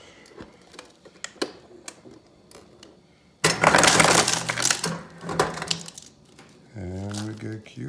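A Samsung refrigerator's door dispenser drops ice cubes, a sudden loud clattering rush of cubes tumbling into a container, followed by a mechanical whirring hum; quieter clicks and taps come before it.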